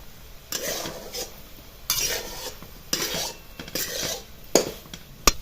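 A spoon stirs soybean dry curry in a pan, scraping and rubbing in repeated strokes with light sizzling in between, close and fairly quiet with no talk.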